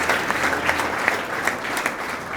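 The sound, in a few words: congregation applauding in church service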